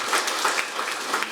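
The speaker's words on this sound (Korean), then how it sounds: "큰 박수로 모시겠습니다." An audience at a public hearing on mental health policy claps briskly and continuously, a brief close burst of applause with no voices.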